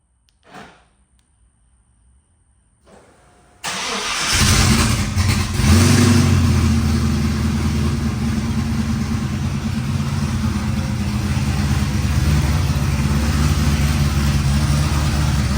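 A car engine cranks and catches after a new lightweight AntiGravity battery is fitted, then runs loud and rough with revs rising and settling into a steady, throaty idle, close up with no talking.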